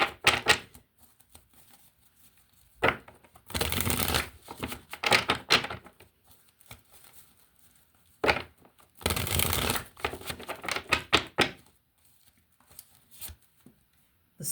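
Tarot cards being shuffled close by, soft papery riffling bursts in several separate bouts with short pauses between them, quiet and without speech.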